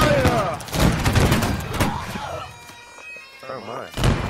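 Musket volley fired on command in Holdfast: Nations at War, a loud burst of overlapping shots early on that rings into a second crackle, with voices shouting orders around it.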